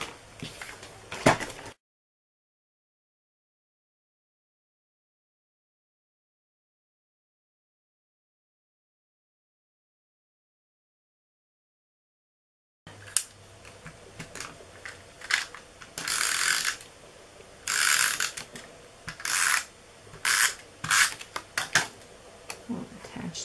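Cardstock being trimmed on a paper trimmer for a stamped Thanksgiving Hershey's treat holder, a series of short sliding, scraping cuts and clicks after a long silent gap, fairly close and alone.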